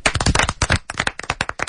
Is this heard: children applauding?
yes